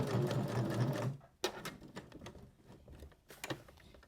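A sewing machine stitches through fabric and thick batting in a rapid, close mechanical whir that stops after about a second, followed by a few scattered clicks and taps as the fabric is rotated.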